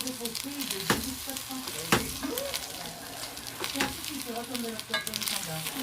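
Creole-style spaghetti sauce sizzles and crackles in a hot pan as it is stirred, with spaghetti being mixed in. Scraping strokes land roughly once a second over the constant loud frying, and no one speaks.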